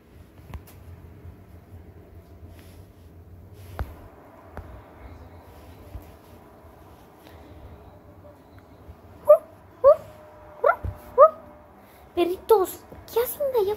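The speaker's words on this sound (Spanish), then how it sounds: "Perritos, ¿qué hacen de allá afuera?" Dogs outside in the rain give a run of short yips and whimpering barks in the latter half, sharp close bursts after a long stretch of quiet background.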